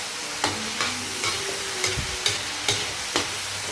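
Vegetables and squash with fish bagoong sizzle in a pan while a spatula stirs them in regular scraping strokes, roughly every half second, close and fairly loud.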